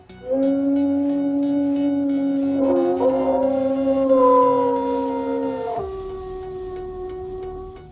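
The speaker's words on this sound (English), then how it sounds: "Here's a gray wolf." A gray wolf howls in one long, steady, sustained cry that bends in pitch before dropping off, loud and alone with no voices, played by Google Assistant.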